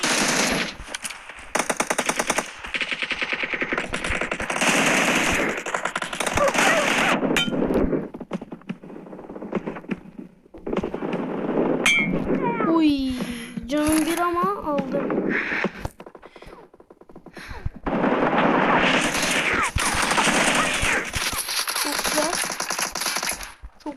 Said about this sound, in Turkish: Her yerden sıkıyorlar ya